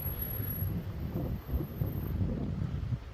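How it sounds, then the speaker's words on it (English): Steady wind buffets the microphone beside the River Ness in Inverness, Scotland, with low rumbling gusts throughout, fairly loud and close, with no voices. "It's actually a wee bit windy down here."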